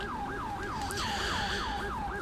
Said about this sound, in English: is that my siren?